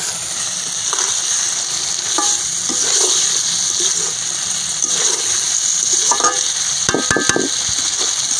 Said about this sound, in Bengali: আমার তেল চলে আসছে, এখন আমি এই যে মাছটা কষায় নেব।